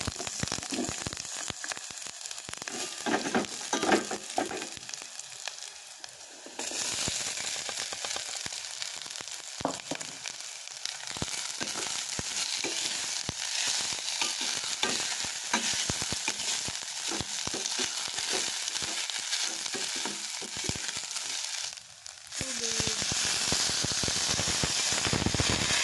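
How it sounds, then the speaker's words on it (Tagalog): Garlic and onion sautéing in a pan, a steady bright sizzle running throughout with scattered crackles and pops, brief lulls near six and twenty-two seconds, no talk. "Nagigisa lang ako ng bawang at sibuyas."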